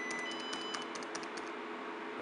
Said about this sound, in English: we want to press 1 on the keyboard several times.